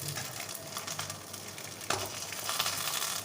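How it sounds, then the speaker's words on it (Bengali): Palm-fruit parathas frying in a little oil in a pan, a steady close sizzle with a brief louder crackle as one is turned, no talking. "আমি একটা খোলায় 3টে দিয়ে দেখুন এরম উল্টে পাল্টে ভেজে নিচ্ছি।"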